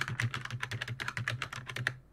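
A password typed on a computer keyboard: a quick, even run of close keystrokes clicking in a steady rhythm for about two seconds, with no voices.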